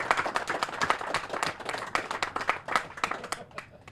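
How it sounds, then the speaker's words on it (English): A small indoor crowd applauds at a speech held in a former orphanage turned apartments, steady close clapping of many hands for a few seconds, thinning toward the end. "let's give a round of applause to all our Marquette folks here"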